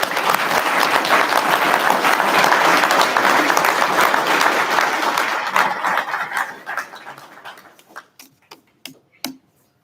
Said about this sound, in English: Let's have a round of applause for this group.